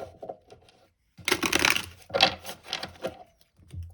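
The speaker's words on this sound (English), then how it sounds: "Okay, one final shuffle." Deck of tarot cards being shuffled, several bursts of crisp riffling and flapping close by, separated by short pauses.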